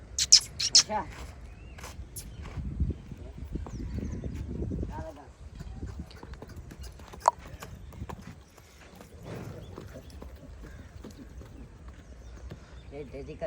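A black mare's hooves clip-clop on hard ground in an uneven, lively rhythm, fairly close, with a few birds and faint voices around it.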